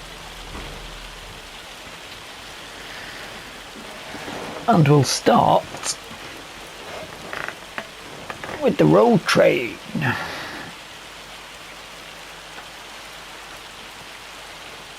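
Hail and rain fall in the Farming Simulator 25 video game as a constant hiss of drops hitting surfaces, running the whole way through with someone talking over it in two short bursts.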